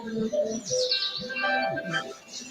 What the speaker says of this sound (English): Here are the birds.